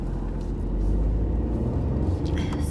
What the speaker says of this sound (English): I have traffic this morning